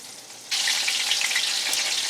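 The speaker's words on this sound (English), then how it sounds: "now that the oil is finally heated up, let it cook about approximately 3 minutes per side" Food hits hot oil in a pan and bursts into a loud, steady sizzle after a brief quiet moment, then crackles on evenly until the end.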